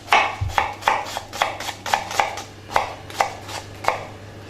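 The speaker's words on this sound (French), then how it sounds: "Donc là nous faisons des échalotes" A kitchen knife chops shallots on a cutting board in about a dozen crisp, close, evenly spaced strikes, each a sharp tap with a short scrape, alone without talk.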